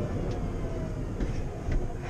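Inside a Citroen Ami electric car while driving, a constant loud rumbling road and cabin drone persists throughout, with a few faint knocks and rattles over it.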